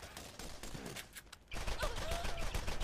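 Gunfire in the video game Borderlands: rapid bursts of shots, lighter at first, then after a brief lull a dense sustained volley runs to the end.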